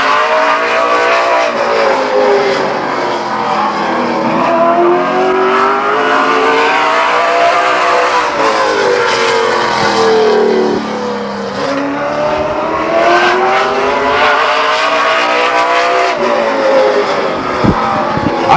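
A late model stock race car thunders around the Stockton 99 Speedway oval, its loud engine note rising and falling continuously as it passes, steady and powerful with no voices over it.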